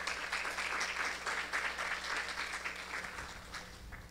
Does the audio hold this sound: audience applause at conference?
yes